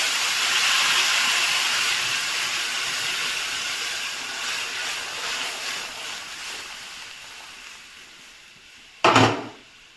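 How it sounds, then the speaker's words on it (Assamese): Hot water poured into a pan of fish curry seasoned with turmeric gives a loud, hissing sizzle that gradually fades, then a sharp thump near the end. "এতিয়া গৰম পানী ইয়াতে দি দিম।"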